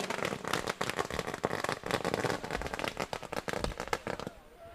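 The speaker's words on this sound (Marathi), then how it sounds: "फटाक्यांची आतिषबाजी केली जाते, फटाक्या वाजवल्या जात आहेत" Firecrackers burst in rapid, crackling volleys during the prize ceremony for a 2025 cricket cup. The dense popping runs continuously before cutting off near the end.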